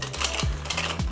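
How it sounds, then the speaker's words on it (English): A Negroni cocktail stirred in a glass, close clinking and scraping of a spoon with a couple of sharper taps over a steady swirling background. "Stir it a little bit"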